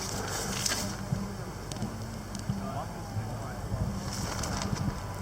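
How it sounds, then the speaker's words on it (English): Strong wind gusts buffet an outdoor camp on a gravel cycling tour in Oregon, producing a steady, rumbling roar that swells and eases slightly without letup. "The wind is gusting here like crazy."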